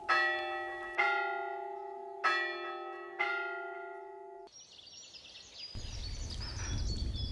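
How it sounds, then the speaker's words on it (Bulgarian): A church bell rings four slow, resonant strokes that hum and fade, then birds chirp as a breezy outdoor hiss rises. "разположена благозвучна камбана, огласяща цялата околност"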